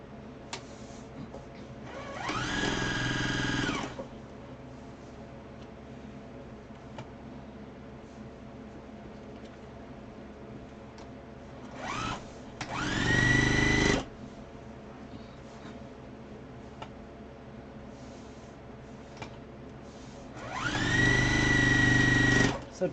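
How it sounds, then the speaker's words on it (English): A sewing machine stitches the bottom edges of fabric masks in three separate whirring bursts of a few seconds each, close and fairly loud, with a quiet room between runs. "now we're going to sew the bottoms"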